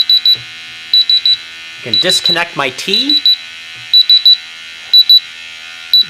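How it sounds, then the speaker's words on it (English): A Rae Systems QRae 3 gas detector sounding its alarm during calibration with a T fitting: repeated bursts of sharp, high electronic beeps in regular groups of three, with a person talking briefly in the middle. "Instrument goes into alarm."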